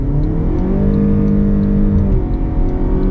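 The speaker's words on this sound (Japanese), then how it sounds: "合流加速 40 から120まで全開加速をお届けしたいと思います" A Toyota Crown Sedan Z Hybrid accelerating at full throttle from 40 to 120 km/h on an expressway merge: a loud, steady engine and road drone that rises slightly in pitch, with no talking.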